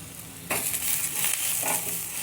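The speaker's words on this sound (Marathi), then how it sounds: "2 मिनटं याला पण फ्राय करून घ्यायचं आहे." Garlic cloves, ginger and long-cut dried coconut hit hot oil in a pan with a sudden loud sizzle that continues as a steady, close frying hiss, with a brief stir partway through.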